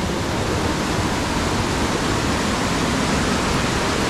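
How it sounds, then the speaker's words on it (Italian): A full mountain river in Ticino, Switzerland, rushes loudly and continuously, a dense, steady roar of water close by with no other sounds. "Siamo arrivati a un altro fiume bello pieno"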